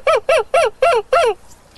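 A voice imitates a screech owl, giving five evenly spaced, wavering hoots in quick succession, close and fairly loud, followed by a short quiet tail.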